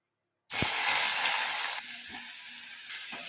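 After a brief silence, cumin, mustard seeds, curry leaves and crushed onion hit hot oil with a sudden loud sizzle. The hiss stays close and continuous, easing slightly as it settles.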